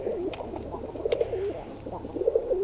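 Kazan x Old German Owl cross pigeons coo in soft, repeated rolling phrases, close and moderately loud over a quiet background hum, with no talk.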